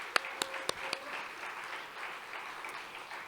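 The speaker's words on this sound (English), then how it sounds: "thank you, applause." At the Taos storytelling festival, a few loud, separate claps ring out close by, then soft, scattered applause from the audience carries on faintly in the background.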